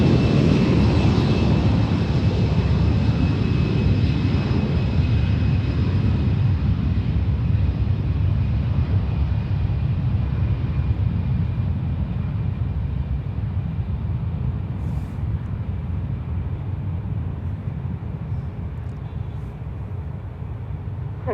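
Jet airliner landing at San Francisco International Airport, a loud broad roar that slowly fades over some twenty seconds, heard from a distance.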